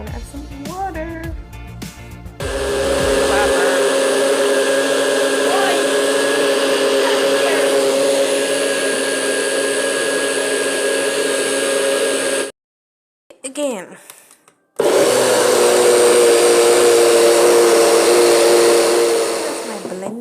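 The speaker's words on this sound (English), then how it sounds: "Frozen fruits at the bottom, or pine and watermelon in our blender." A kitchen blender churns frozen fruit, pineapple and watermelon with water in a loud, steady whir that stops briefly, sputters, then restarts at full power, with a short spoken word near the start.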